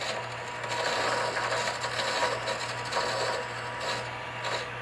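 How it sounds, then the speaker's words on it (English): A sharpening stone grinds metal off a gun surface in continuous rasping strokes, a close, gritty scraping that swells and eases rhythmically over a low steady hum. "we're going to take our sharpening stone, what I consider to be our grinding stone, and remove that metal"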